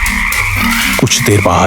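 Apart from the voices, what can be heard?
frogs croaking at night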